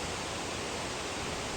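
The Thalanaar waterfall near Valparai roars as a steady, dense rush of falling water, loud and unbroken, with no voices over it.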